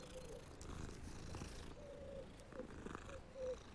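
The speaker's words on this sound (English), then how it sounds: "Oh, kitty cat! Drop everything, kitty cat." A cat in the video game Hogwarts Legacy purrs steadily and close, a soft rumbling loop with faint tonal rises and slight background ambience, no talking over it.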